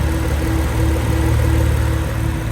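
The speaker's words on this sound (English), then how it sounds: "This is the first time the cooling fans have come on." An Alfa Romeo GT engine with a head gasket problem idles steadily at close range with a constant low rumble, while cooling fans whir continuously on top of it.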